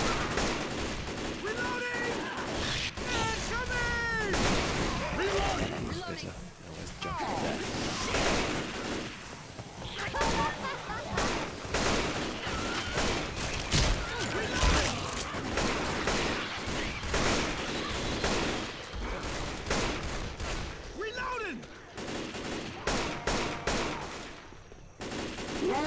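Rapid gunfire bursts and sharp rifle shots in the zombie shooter Left 4 Dead 2 on the Blood Harvest campaign, dense and loud throughout with scattered cracks, clangs and shrieking infected noises mixed in.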